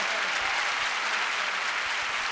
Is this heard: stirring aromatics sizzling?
no